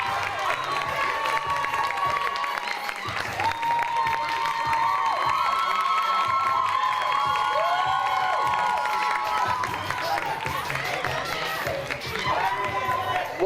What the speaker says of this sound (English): please give a warm round of applause for Grammy-nominated recording artist